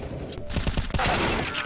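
Burst of rifle fire from a CS:GO match, several rapid shots in quick succession, loud and close, blended with game ambience and faint voice chatter.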